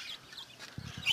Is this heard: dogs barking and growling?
no